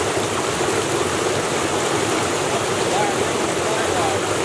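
A small rocky brook runs steadily over stones, a continuous close rushing and burbling of water that fills the whole clip without a break.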